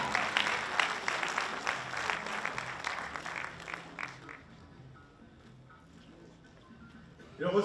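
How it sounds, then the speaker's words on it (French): Applause for award winners at the Nuit des lompolo 2025 ceremony, a loud crowd clapping that fades out midway, leaving a quiet hall before a brief burst of noise at the end. "Acclamation pour tous ces lauréats,"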